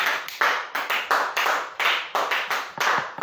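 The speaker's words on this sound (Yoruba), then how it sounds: "Ẹ pàtẹ́wọ́ fún Jésù." A church congregation claps in a brisk, even rhythm, many hands striking together in repeated sharp bursts, close and lively with no talk over it.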